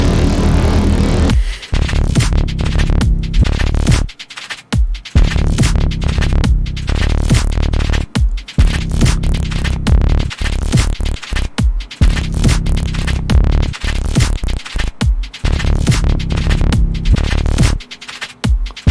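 Futurama's Hypnotoad gives a loud, steady, buzzing drone with a static-like throb, broken repeatedly by short cuts and gaps throughout.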